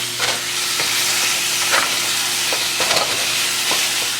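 Pieces of chicken browning in a hot pan, ahead of being sautéed with chopped onions for Peruvian-style tacos, give a steady close sizzle broken by a few sharp scrapes and stirring clatters.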